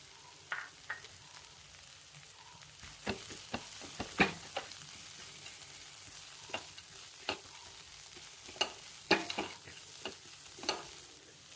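Puffed rice tossed with a powder of roasted gram, dried red chilli, garlic and curry leaves in a pan for uggani, with soft scattered stirring scrapes and light spatula taps over a quiet frying hiss.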